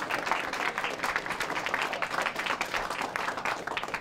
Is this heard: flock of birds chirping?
no